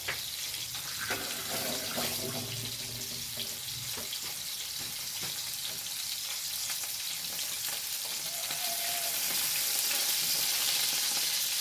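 Crab fries in oil with curry leaves in a home kitchen, a steady, fairly faint crackling sizzle that grows slightly louder near the end, with light stirring sounds underneath.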